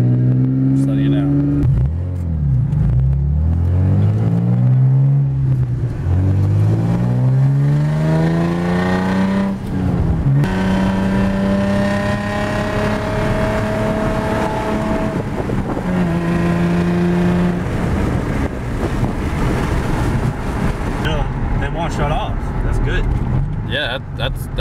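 A Nissan 350Z engine drones and revs as the car drives, its pitch climbing and falling through the gears, loud and close inside the cabin with wind noise and occasional talking.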